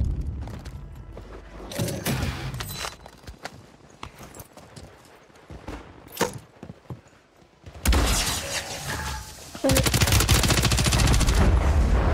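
BAL 27 rifle fire in Warzone 3, scattered sharp shots and clattering footsteps early on, then loud sustained automatic bursts in the final seconds, close and dense.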